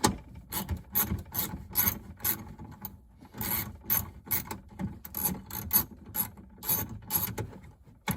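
A ratchet loosens bolts under an Audi B8 S4 during a trailer wiring install, giving rapid, repeated clicking bursts in a steady back-and-forth rhythm, close and fairly loud, with no talking.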